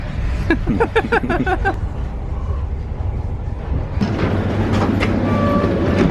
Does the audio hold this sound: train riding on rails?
yes